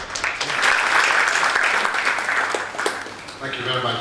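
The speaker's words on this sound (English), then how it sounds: "Round of applause, please." An audience at a talk on Zambia's debt gives a round of applause, a sustained swell of clapping with voices murmuring over it.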